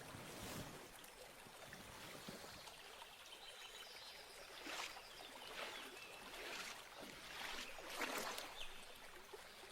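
Water sloshes and splashes softly in a bath, with faint trickles and a few louder splashes, quiet and close with no talk over it.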